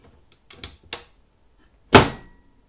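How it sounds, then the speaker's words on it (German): A DeLorean scale-model car door clicks shut: a few small, soft clicks, then one sharp, loud latching snap near the end, heard alone in a quiet room. "Fast wie eine richtige Autotür"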